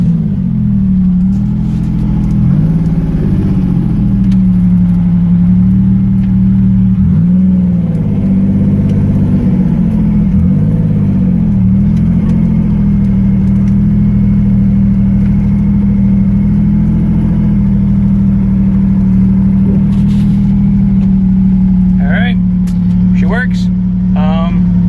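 A Pontiac Fiero engine with a newly installed transmission runs steadily at a loud, close idle with a deep constant hum and a few slight revs, while someone talks over it.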